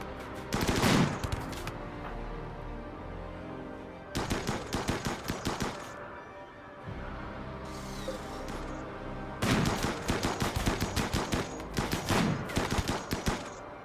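Gunfire from snipers and colony defenders in RimWorld, heard as three loud clusters of rapid cracking shots separated by calmer stretches, with quieter ambient clatter between the volleys.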